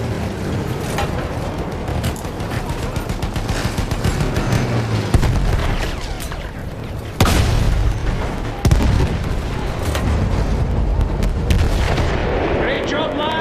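Artillery in the video game Battlefield 1 pounds continuously, with loud, close booms and gunfire crashing over rumbling engines, with a voice shouting amid the barrage.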